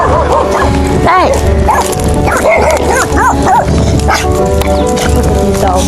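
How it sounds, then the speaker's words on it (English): Several dogs bark and yip loudly outdoors in cold weather, with overlapping barks and whimpers close to the camcorder, filling the whole stretch. "Look at these dogs."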